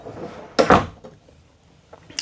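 A bathroom door on a mid-hinge inside a Newmar Dutch Star 4370 Class A diesel pusher RV opens or closes with a single close, sharp knock followed by quieter handling sounds.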